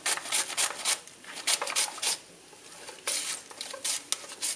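Fennel being sliced on a mandoline in a home kitchen, a run of quick rasping strokes in uneven bursts with brief pauses between, fairly close and alone without talk.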